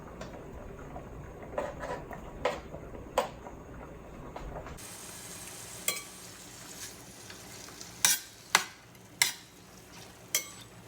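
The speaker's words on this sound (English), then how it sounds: "I'm going to be using this to fry the tofu." Tofu fries in avocado oil with a steady background sizzle, punctuated by repeated sharp stirring clicks and scrapes that grow louder and more frequent toward the end.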